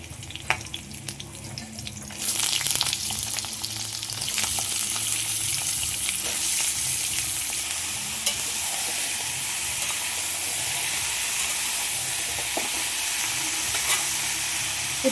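Bottle gourd is tipped into hot oil already sizzling with five-spice seeds, chopped chili and bay leaf, then stirred. A quieter fry gives way to a loud, steady, close sizzle with scraping stirs throughout.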